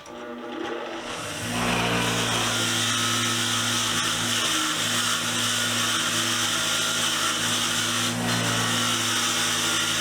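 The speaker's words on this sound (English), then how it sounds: "then we're going to throw this stuff on the wire wheel" A power-driven wire wheel starts up and runs loud and steady while grit and grime are cleaned off old hand tools, a continuous whirring grind with a constant motor hum.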